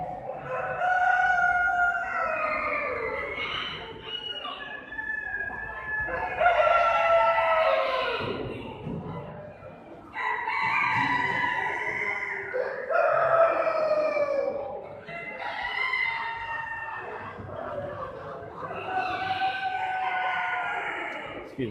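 Blue and black Sumatra chickens crowing repeatedly at a fall poultry show, several long overlapping cock-a-doodle-doo calls rising and falling close by, with faint murmur of people in the background.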